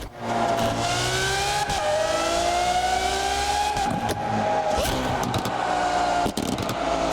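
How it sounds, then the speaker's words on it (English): A V12 car engine in the No Hesi driving game, loud and sustained, with a high revving tone that climbs and dips through gear changes and occasional sharp breaks. "Gotta have some V12 sound in the No Hesi lineup."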